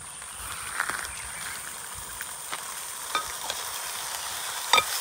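Tamarind juice sizzles and bubbles in a pan cooking over an open fire in the forest, a steady close frying hiss broken by a few sharp stirring scrapes and pops.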